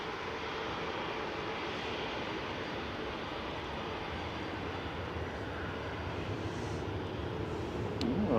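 An Air Transat Airbus A321neo jet at Manchester Airport produces a steady, moderately distant engine rumble that grows slightly louder toward the end.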